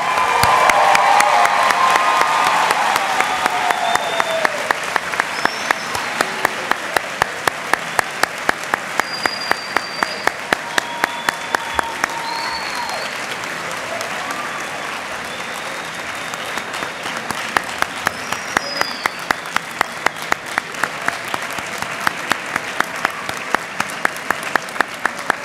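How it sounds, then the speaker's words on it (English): Sustained applause and cheering from a large crowd honoring graduates at a 2015 Latina/o graduation celebration, loud at first and tapering slightly while steady clapping continues throughout. "Can we have one more round of applause for the graduates here today?"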